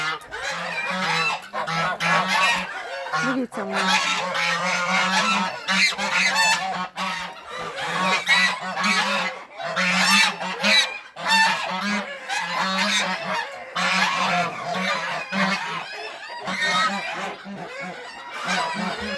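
Loud, repeated goose honking close by, with excited squawks overlapping almost continuously; a person speaks briefly amid the noise.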